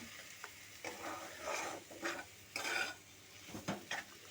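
A spatula stirring and scraping a prawn and green jackfruit cutlet mixture frying in a pan, with irregular bursts of scraping and sizzle, close and moderately loud against a quiet background.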